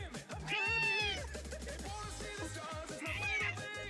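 A pet cat meows clearly and close by, with a long drawn-out cry followed by a shorter one a few seconds later, over a busy rhythmic background.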